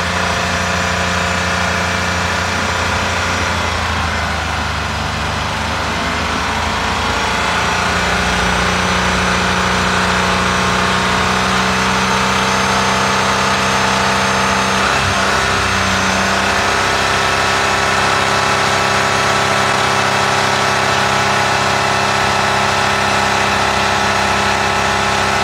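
Engine held at a steady 4000 rpm during an oil pump pressure test, a continuous loud drone with constant tone and no talk over it.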